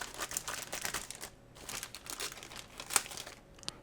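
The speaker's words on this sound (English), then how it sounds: "I'm going to just grab a small pair of scissors here and cut it right across the center." Small scissors cut across a parcel box during a tool unboxing, giving faint, scratchy crinkling and snipping noises that are close and quiet, with no talking.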